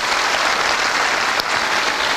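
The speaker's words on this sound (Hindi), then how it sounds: "उनके पिताजी के लिए जोरदार तालियां जरूर होनी चाहिए" A seated audience at a talk breaks into steady, dense applause. Many hands clap together in a loud, continuous wash that carries on without a break.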